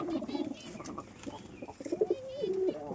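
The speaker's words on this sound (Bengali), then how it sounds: "এগুলো বিগ সাইজের পায়রা, লোকাল পায়রা না, ঠিক আছে, ভালো কোয়ালিটির পায়রা।" Large, good-quality pigeons, including a brown male, coo close by in low, throaty rolling calls that repeat and swell, with a few softer sounds between them.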